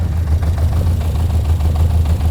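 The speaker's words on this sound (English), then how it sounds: "Well, let's start her up. Okay. Let it idle, rev it, what do you want?" A classic car engine idling in a workshop, a loud, close, steady low rumble with an even throb and a faint knock, running alone throughout.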